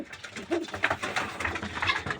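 Loft pigeons near nesting eggs coo steadily in a soft, rolling rhythm, close and fairly quiet, several birds overlapping without any talk.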